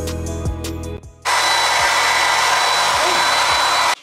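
A hair dryer switches on with a sudden loud whoosh to dry glue on a wig, blowing as a steady high roar for close to three seconds and then cutting off. Tonal music plays underneath and is heard on its own just before the dryer starts.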